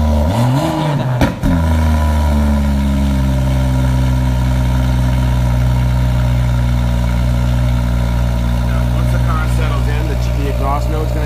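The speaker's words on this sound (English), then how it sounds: "When you have it in sport mode, the exhaust is a lot more aggressive." A sports car exhaust in sport mode idling with a deep, steady rumble, loud and close, after a brief blip of revving at the start.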